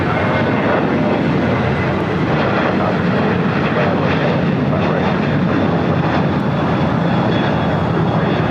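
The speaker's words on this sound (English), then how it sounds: "The 747-400 converted freighter will be taking off" A Boeing 747-400 converted freighter roars down the runway on takeoff at LAX, a loud, continuous, broad jet-engine rumble that holds steady throughout.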